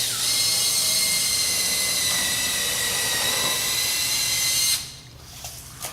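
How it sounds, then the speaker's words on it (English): A power drill pre-drills a hole in a roof above a rafter for a solar panel rail, whining at a high, steady pitch for several seconds close by before cutting off, leaving quiet rustling. "Pre-drill where we want to"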